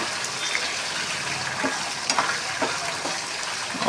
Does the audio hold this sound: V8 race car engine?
no